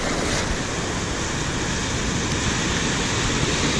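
Ocean surf rolls in as a continuous broadband wash of breaking waves, loud and close, mixed with wind noise and no voices.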